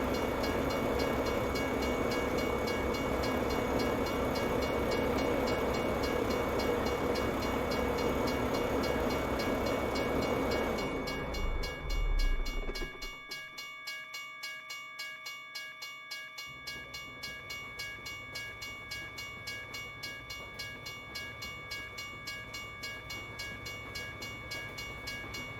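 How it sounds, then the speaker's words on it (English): A train rumbles loudly past in American Truck Simulator, a heavy roaring drone that cuts off abruptly, leaving a rhythmic clickety-clack of wheels over rail joints that continues steadily to the end. "this train is going to be extremely loud"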